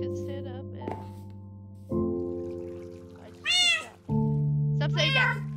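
A Minecraft cat meows twice in quick succession, sharp and close, between steady electronic game tones, with a voice also present.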